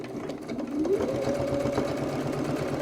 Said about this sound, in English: So a little back stitch.